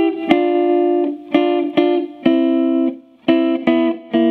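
Electric guitar plays a closing Memphis soul lick of repeated double-stop notes in short separate groups with brief gaps between, near and clean, played alone without talk.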